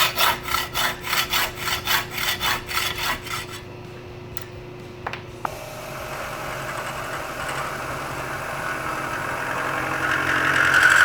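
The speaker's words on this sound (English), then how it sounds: "So I'm going to hacksaw it right there." A hand hacksaw rasps through a steel bicycle frame tube in about a dozen even, rhythmic strokes, close and loud, then stops; a couple of small clicks follow before a low, steady hum builds in the background.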